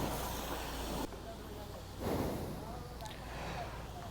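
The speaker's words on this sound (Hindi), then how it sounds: "तो बस अभी फटाफट पानी मारता हूँ" Water sprays hard onto a BMW 1250 GSA motorcycle during a quick rinse without soap, a steady loud hiss that briefly cuts back and then surges again.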